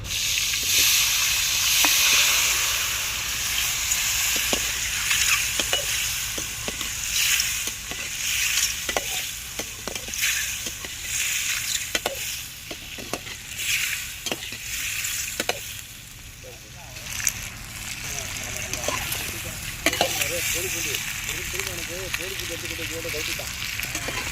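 Steady crackling sizzle of peeled quail eggs frying in hot oil, loud and continuous, with occasional sharp pops and stirring clinks throughout.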